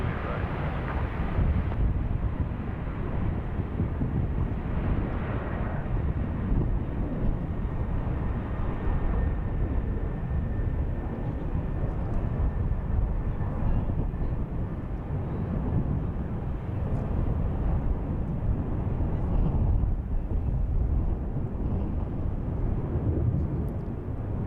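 A steady, loud jet roar fills the air as an airliner comes in to land on runway 28 Right at San Francisco International Airport. Wind buffets the microphone and faint radio chatter sits underneath.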